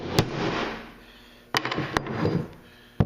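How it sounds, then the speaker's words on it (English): A hammer bangs on a wooden block to flatten a glued wooden puzzle piece, giving sharp, close knocks spread across the moment: one early hit, then a pair in the middle and a final strike at the end, with shuffling between. "so I'm going to try to bang that down with a hammer"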